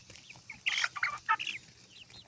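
Young chickens peck at juicy corn kernels on a hand-held cob, giving a quick cluster of close, high chirping clucks in the middle of the clip, with soft rustling around them.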